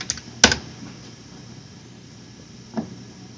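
Someone typing on a computer keyboard, a short burst of sharp key clicks near the start and one lone keystroke later, in a quiet room.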